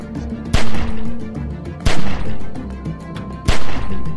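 Three loud, booming gunshots from The Walking Dead video game, spaced about a second and a half apart, each followed by a ringing tail over a low rumbling background.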